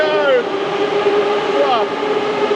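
Moscow Metro cars move through a station with a steady, close rumble, and an electric motor whine rises and falls as trains come and go.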